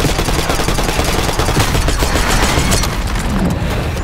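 Sustained, dense gunfire in Call of Duty: Black Ops 6 during a street shootout at a limo, with rapid automatic bursts and booms filling the whole stretch, loud and close.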